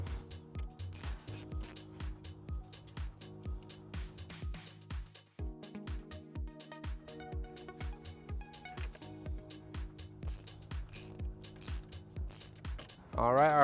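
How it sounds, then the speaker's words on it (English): A 10mm socket ratchet working a bolt loose on a Chevrolet Malibu, a fast run of close, crisp clicking that pauses once and then carries on, with faint metallic clinks. "We're going to go ahead and remove that with a 10mm socket."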